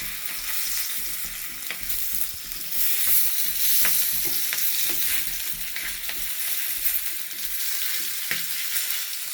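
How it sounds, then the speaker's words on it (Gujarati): Chilies stuffed with fenugreek and chickpea flour sizzle in hot oil over a high flame, a steady hiss with scattered sharp crackles and pops, close up with no voices. "ફાસ્ટ ગેસે એને તળવાના છે એટલે સરસ તળાઈ જાય"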